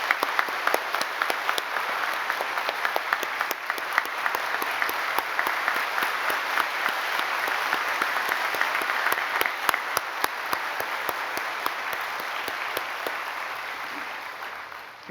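A church congregation claps together to welcome a retired pastor at a Korean induction service, sustained even applause with sharp individual claps standing out, steady for about fifteen seconds and easing slightly at the end.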